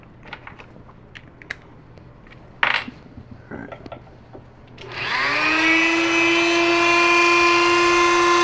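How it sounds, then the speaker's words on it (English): After a few faint clicks and handling knocks, a Dremel rotary tool fitted with a cutting bit spins up to a steady, loud high-pitched whine that holds constant to the end, with no talk. "Let me get my Dremel going."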